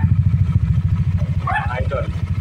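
Honda Click 125 scooter engine fitted with an MTRT 160cc chrome bore block, idling close by with a low rhythmic chugging pulse while someone talks over it.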